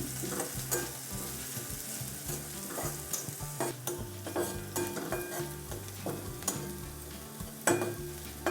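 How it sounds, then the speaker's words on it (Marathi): Green chilies with curry leaves and turmeric sauté in a pan for a bottle gourd dish, a steady quiet sizzle broken by frequent spatula scrapes and stirring knocks. "मिरची आता व्यवस्थित परतून घेतलेली आहे"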